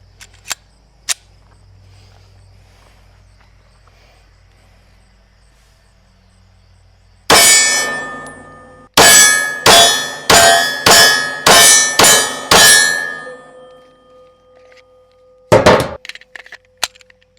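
Pistol shots from an SCT DSC9 strike a steel target, a few sharp cracks followed by a rapid string of loud hits, each ringing with a lingering metallic tone, then a final pair of shots.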